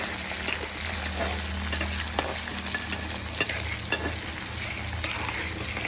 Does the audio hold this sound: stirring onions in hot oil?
yes